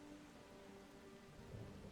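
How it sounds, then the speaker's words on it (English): Steady rain and low rumbling thunder play as weather effects in a post-apocalypse city-builder video game, forming a faint, continuous background with a slightly stronger rumble near the end. "Oh, weather effects. It just dawned on me it's raining. And thunder and lightning as well."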